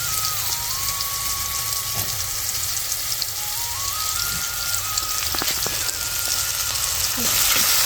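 Curry leaves crackle and sizzle in hot oil, a dense steady spitting hiss with a few sharper pops, close by and without voices.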